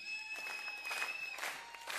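Audience applause at a live broadcast show, a steady dense clapping from a crowd that holds evenly for the whole moment with no voices on top.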